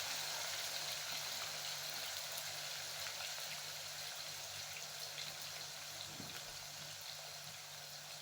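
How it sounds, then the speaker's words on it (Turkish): Steady, dense sizzling of potatoes frying in hot oil, a continuous bright crackle with no talking. "Patateslerimi kızartacağım."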